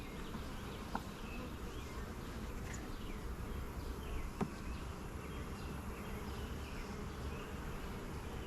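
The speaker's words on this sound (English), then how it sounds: "Bees are very calm." Honeybees hum in a dense, steady buzz during a hive inspection, the swarm sound close and continuous with a few faint clicks and knocks from handling.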